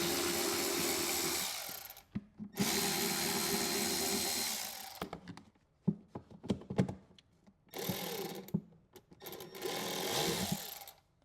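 A power drill backs screws out of a motorcycle hard bag speaker lid adapter in bursts of high whirring, separated by short pauses filled with clicks and handling knocks, fairly close and clear.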